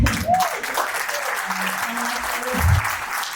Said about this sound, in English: we should all really give ourselves a round of applause